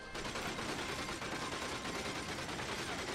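A turret in the video game From Russia With Love keeps up dense, sustained automatic fire, a steady loud clatter of rapid shots running through the whole stretch without pause.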